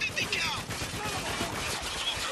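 Rapid gunfire rattles through a firefight in the video game Spec Ops: The Line, with dense bursts and crackling shots while players talk over the action.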